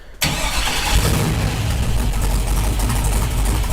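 Buick fitted with an LS engine and just a couple of cherry bomb mufflers bursts into life after a short crank, then settles into a loud, rumbling, barking idle up close.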